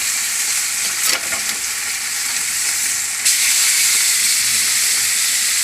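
Swiss chard sautés in a hot pan with a loud, steady hissing sizzle, a burst of stirring around the first second, and a sharper surge of steam partway through.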